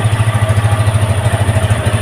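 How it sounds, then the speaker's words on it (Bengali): A used 2024 Suzuki Gixxer SF FI ABS motorcycle with about 3,400 km idles steadily nearby, its engine throbbing in an even, rapid low pulse with no voices over it. "ইঞ্জিন সাউন্ড আপনার শুনুন"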